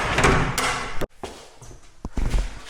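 Door opening or closing inside a heated building, with thuds, a sharp clack and a sliding rattle heard close by, no one speaking.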